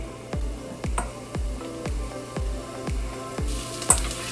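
Onion and garlic fry in a pan with a steady sizzle, broken up by about eight regular soft knocks as the ingredients are stirred, fairly close and with no voices.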